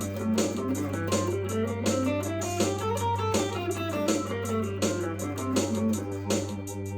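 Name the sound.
guitar playing Dorian mode scale in G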